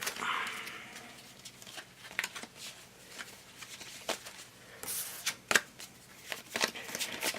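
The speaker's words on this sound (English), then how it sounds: "Shuffle the production cards." A deck of cards for the board game Copper Country is shuffled close up, with soft riffling and several sharp snaps and taps of the cards in bursts, no talking.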